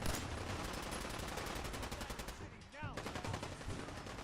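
Rapid overlapping gunfire from NPCs in Fallout 4 rattles continuously in dense bursts, loud and sustained, with a brief whooshing sweep near the end before the shooting resumes.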